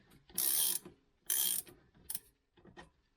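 A ratchet wrench cranks 10 mm bolts loose on a Lexus RX400 Hybrid, giving two long, loud, close ratcheting bursts and then two shorter clicking spurts, with no talk.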